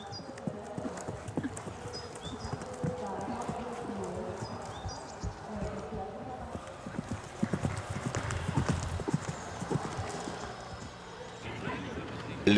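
Hunting horse hooves clip-clop steadily at moderate distance under continuous talk, with insect buzzing in the background.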